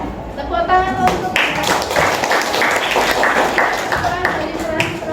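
Audience clapping during a classroom teaching practice lesson, a steady burst of applause lasting several seconds with voices mixed in.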